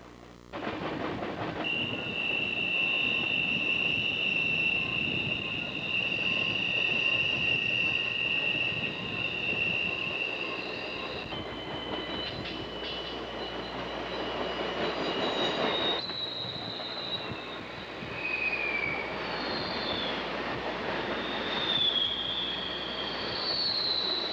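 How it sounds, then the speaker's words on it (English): A freight train of new aluminum hopper cars built by Bethlehem Steel for the Burlington Northern rolls steadily past near the Conemaugh line west of Johnstown, with continuous wheel rumble, clicking over rail joints and long high-pitched wheel squeals, no voices. "New aluminum hoppers for the Burlington Northern, built by Bethlehem Steel."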